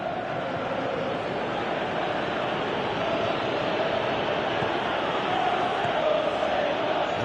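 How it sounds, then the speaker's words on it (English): Stadium crowd noise from a PS4 football match involving Liverpool players, a continuous, fairly loud roar that swells slightly toward the end, with no commentary audible over it. "you can hear how the crowd are reacting to this too"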